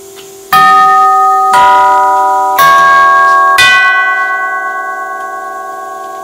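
A late 1950s NuTone L model door chime plays four clear, resonant notes in an evenly spaced descending sequence, each loud strike ringing on and overlapping before the last tone slowly decays.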